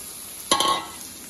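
Capsicum tossed into a pan of masala for desi Chinese noodles, a sharp burst of sizzling and stirring that quickly fades to a low hiss.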